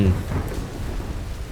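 Heavy rain and a rumble of thunder in the Tomb Raider video game, a loud, dense storm wash filling the scene during torch-lit play, with no speech.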